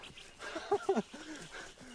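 A dog gives a few short, close barks and yelps in quick succession within a tense scene, with brief vocal sounds around them.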